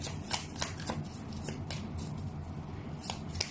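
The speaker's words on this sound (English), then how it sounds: "As I go ahead and shuffle the cards" Tarot cards riffling and flicking in a quick, uneven patter of crisp slaps, close by, over a low steady background hum.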